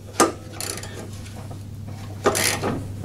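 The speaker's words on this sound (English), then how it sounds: "With a 16mm socket there and a half inch ratchet, just loosened off the bolt" A 16mm socket on a half-inch ratchet loosens the tight central blade bolt of an HYM460SP self-propelled petrol lawn mower, with two sharp metallic cracks about two seconds apart and soft mechanical clicking between them.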